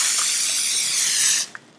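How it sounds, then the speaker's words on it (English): Cooking spray hisses from a can onto a bread loaf pan in one continuous loud spray lasting over a second, then stops with a small click. "I'm going to spray my loaf pan with a little bit of cooking spray"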